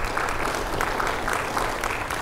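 Audience applause fills a short stretch with steady, dense clapping of even loudness throughout, no voices standing out.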